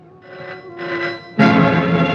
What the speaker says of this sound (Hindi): लगता है उन्हीं लोगों का फोन है।